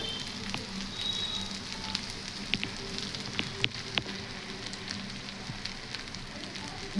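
Okra pieces pan-fry slowly in a pan, giving a steady, moderate sizzle with scattered small pops and crackles throughout, and nobody speaking.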